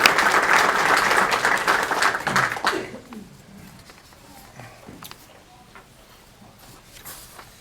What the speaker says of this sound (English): So another round of applause for everybody.